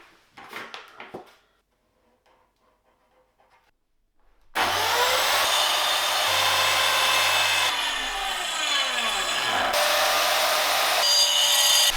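A power saw cuts wooden pieces to length, a few soft handling taps followed by a loud, continuous whine and rasp that lasts for several seconds with slight shifts in pitch.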